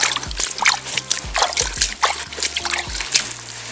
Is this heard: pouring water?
yes